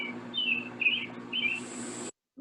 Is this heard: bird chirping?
yes